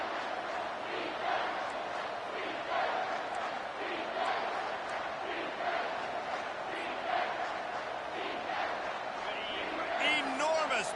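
Stadium crowd roaring steadily at a third-down play in a college football video game, a loud continuous wash of cheering that swells and holds throughout, with a commentator's voice over the top.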